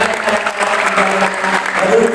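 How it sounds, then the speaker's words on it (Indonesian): A crowd claps at an Indonesian civic democracy forum, a dense, steady wash of applause that holds evenly for about two seconds without breaks. "mari saya mengajak kita berikan aplaus yang paling meriah untuk DPR"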